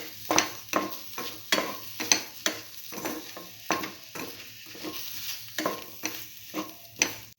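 Bread and eggplant stir-fried with mint leaves and salt in a pan give repeated rhythmic scraping strokes over a light sizzle, about a dozen close, evenly spaced stirs with no speech.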